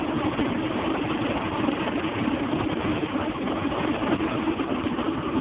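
OMC Cobra boat engine, converted to an SEI116 drive, idling steadily with a continuous low rumble and even vibration, close and alone with no voices.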